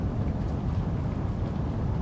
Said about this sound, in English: I thought that was a bit of rain at the side of that tunnel.